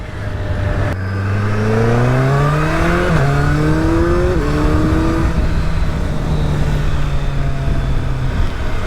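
A Suzuki Hayabusa Gen 3 motorcycle, 25th Anniversary Edition, accelerates hard through the gears on its quick shifter. The engine note climbs in rising sweeps, with several brief clean shift breaks, before settling into a steady high drone, loud and close.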